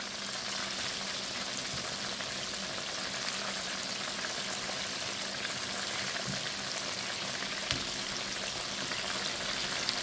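Spicy ranch chicken wings frying in oil, giving a steady, dense sizzle and crackle with occasional small pops, continuous and close throughout with no talking.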